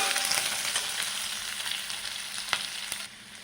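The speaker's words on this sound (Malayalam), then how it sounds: "നീളത്തിൽ മുറിച്ച് വെച്ച വലിയൊരു സവാള ചേർത്ത് കൊടുക്കാം. അപ്പോൾ അത് നമ്മൾക്കൊന്ന് ജസ്റ്റ് ഇളക്കിയിട്ടൊന്ന് ചെറുതായി ഒന്ന് വാട്ടിയെടുക്കാം." Sliced large onion sautéing in a pan, a steady close crackling sizzle with a few soft stirring scrapes, continuous throughout without any voices.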